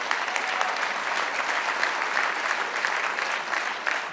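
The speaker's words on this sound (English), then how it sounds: "Let's give the chairman a round of applause." A convention crowd applauds the chairman in a sustained, even roar of clapping from a large audience, heard from a distance, steady throughout without speech.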